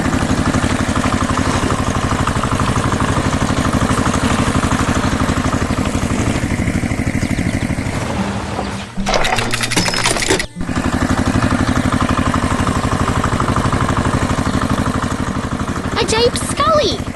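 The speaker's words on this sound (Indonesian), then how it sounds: "Traktor itu sedang bekerja keras membajak tanah agar siap untuk ditanami bibit baru." A cartoon tractor ploughing soil in a 3D animation rumbles with a steady engine drone throughout, briefly dropping out and returning midway, loud and close.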